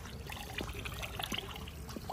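Water trickles and gurgles steadily along a ditch, a continuous soft flow with small splashy bubbling sounds, heard up close and quiet, with no talking.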